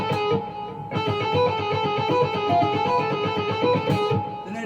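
Neoclassical shred guitar lick in A harmonic minor, played slowly as a steady run of clear, evenly spaced picked notes, bright and close with sustained tone and no talking.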